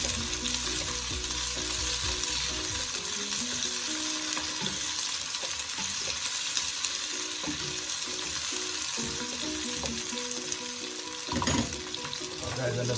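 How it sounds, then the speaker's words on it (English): Peppers and seasoning for sweet and sour chicken sizzle steadily in a pan, close and continuous, with occasional scraping stirs and clinks breaking through the frying hiss. "I'm just going to leave that for a minute or 2 again to let those seasoning fry up."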